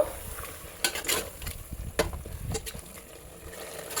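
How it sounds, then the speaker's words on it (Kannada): Masala for chicken biryani frying in a pan, a steady close sizzle with a few sharper scraping stirs of a spoon at irregular intervals, no talking. "ಈ ಮಸಾಲೆದು ಹಸಿ ವಾಸನೆ ಹೋಗಬೇಕು, ಅಲ್ಲಿವರೆಗೂ ಕೂಡ ಅದನ್ನು ಚೆನ್ನಾಗಿ ಫ್ರೈ ಮಾಡ್ಕೋಬೇಕು"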